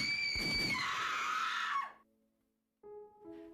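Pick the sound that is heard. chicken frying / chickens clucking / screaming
screaming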